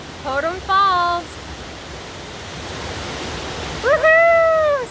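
Potum Falls waterfall roars as a steady broadband rush, with a person speaking briefly over it at the start and again near the end.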